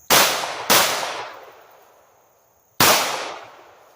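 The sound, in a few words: snubnose revolver gunshots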